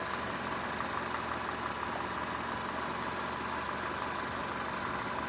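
A Toyota Corolla engine idles with a low, steady hum, faint and even throughout with no other sounds.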